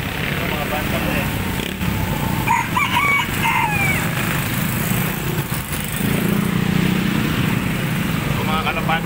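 A bantam rooster crows a short, high call over a constant engine-like drone, with people talking nearby and a few faint clucks.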